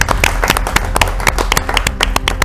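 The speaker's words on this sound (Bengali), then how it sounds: "জোরে হাততালি তাহলে।" Audience at a televised Bengali farming quiz show claps in a dense, steady burst of many hands, loud and close, continuing for a few seconds without pause.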